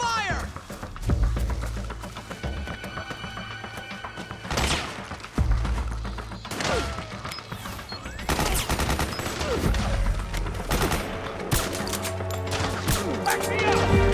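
Suppressing gunfire in Metal Gear Solid 4, with loud bursts of automatic fire and sharp single shots mixed with crashing impacts and shouting soldiers.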